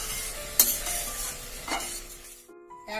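Prawn curry with yogurt sizzles in a pan while a spoon stirs through it, giving a sharp scrape early and then a soft steady bubbling and frying hiss that drops away near the end, close and alone.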